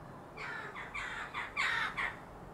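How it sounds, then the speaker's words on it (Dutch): A crow caws several times in a row, harsh and fairly close, with a couple of longer calls near the end. "Een vogel is dat."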